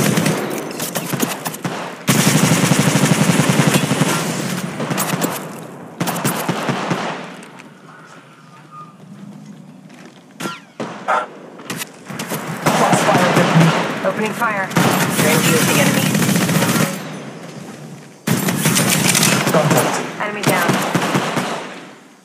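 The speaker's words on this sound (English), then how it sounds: "Shots fired at me." Gunfire in Apex Legends Mobile, played on a Red Magic 6 phone during a ranked match: loud, rapid automatic bursts in long stretches, separated by brief pauses with scattered single shots.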